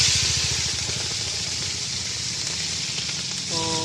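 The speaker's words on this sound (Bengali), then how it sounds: "তো আমি এই তেলের মধ্যে চিংড়ি মাছটা দিয়ে দিচ্ছি।" Raw prawns hitting hot oil in a pan while cooking prawns with ash gourd, producing a loud, steady close sizzle that continues throughout without any talking.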